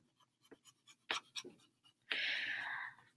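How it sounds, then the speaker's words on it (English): Eraser or hand wiping math steps off a board: a few short scrubbing strokes, then one sustained loud rubbing sweep lasting about a second, close by with no talk. "I'll erase some of my beginning steps up here."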